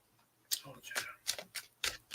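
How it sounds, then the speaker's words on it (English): Playing cards riffle shuffled at a table, a short burst of quick crisp fluttering riffles close by, with faint voice-like sounds around it. "So we riffle shuffle just to reset things."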